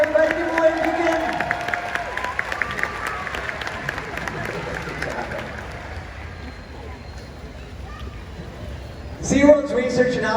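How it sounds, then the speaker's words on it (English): Crowd applause and cheering from the stands at a SeaWorld Orlando killer whale show, rising after volunteers, starting loud then thinning, with an announcer speaking and a fresh swell of crowd noise near the end. "how about we give our volunteers a huge round of applause"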